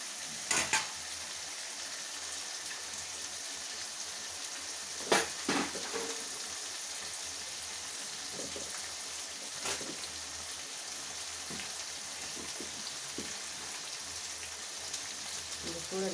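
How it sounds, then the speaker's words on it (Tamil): Ingredients for vatha kuzhambu sautéing in a pan give a steady, fairly quiet sizzle throughout, with a few brief stirring scrapes and clacks scattered across it. No one speaks. "இப்போ நம்ம ஃபாஸ்ட்டாக கூட வச்சு இதை நல்லா வதக்கிடலாம்"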